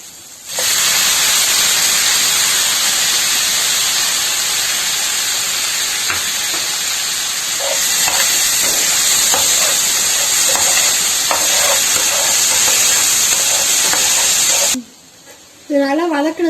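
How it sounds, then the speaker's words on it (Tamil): Tomatoes added to onions already sautéed in a pan for an okra masala, giving a steady loud hiss and sizzle with faint stirring clicks that runs unbroken for about fourteen seconds, then cuts off abruptly as a voice begins. "இப்போ தக்காளி போட போறேன்."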